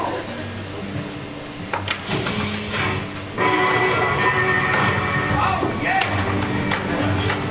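A pinball machine in play at a competitive showcase, with a steady mechanical clatter of thumps and taps from flippers and the ball, dense and busy throughout, with a brief lull near the middle.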